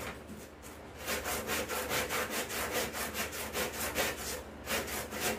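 A pet clipper blade is rubbed back and forth on fine sandpaper to sharpen it, making quiet, even rasping strokes in a steady rhythm of about four per second.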